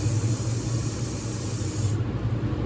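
Compressed air hisses steadily from a loose air hose during a machine spindle change, a loud, continuous spray-like rush that stays constant throughout with nobody speaking.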